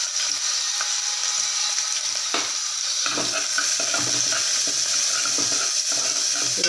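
Chopped onions fry in hot oil with cumin, dried chilli, asafoetida and curry leaves for rice-less sambar rice, giving a loud, constant sizzle with repeated stirring scrapes of a spoon against the pan.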